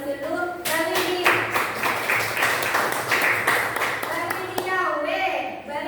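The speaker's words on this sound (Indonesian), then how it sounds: "Kita beri aplaus dulu" A group, many of them children, claps for Bu Yuni in a classroom-style session: dense, steady clapping sustained throughout, with voices mixed in underneath.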